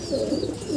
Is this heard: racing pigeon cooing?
yes